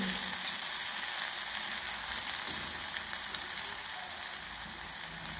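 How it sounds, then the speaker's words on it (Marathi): Coriander vadi pieces shallow-fry in a little oil, giving a soft, steady crackling sizzle throughout with a faint rain-like patter, fairly quiet and with no voices. "थोडं तेल टाकायचं आणि थोडी थोडी आपल्याला तळून घ्यायची"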